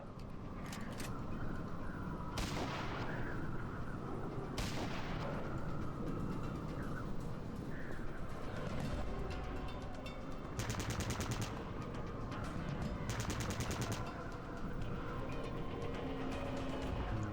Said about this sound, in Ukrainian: Давай, один постріл, інший постріл.